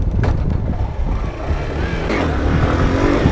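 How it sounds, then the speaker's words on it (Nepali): A motorcycle engine revs close by, loud and continuous, with throaty rising pulses and no talk over it. "मिठो उठ्छ क्या बाइक"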